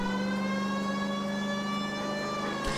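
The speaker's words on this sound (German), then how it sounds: "Und wie man hören kann, haben wir auch eine Sirene." A police car siren wails continuously in the L.A. Noire video game, a loud, steady, tonal howl with a driving engine beneath and a brief thump at the end.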